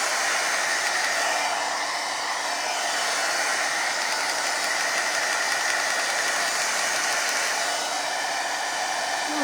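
A hair dryer blows steadily to dry acrylic paint on a bokeh background painting, giving a loud, continuous close-up whooshing roar for the whole stretch with no talking.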